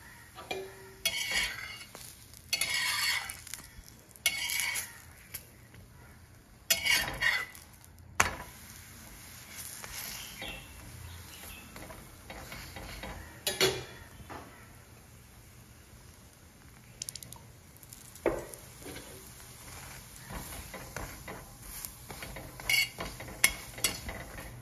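Vastaad roti, a Konkani flatbread, roasting in a pan with a little oil, faint low sizzling broken by clattering scrapes and taps of a spatula on the pan, coming in short bursts between quieter stretches.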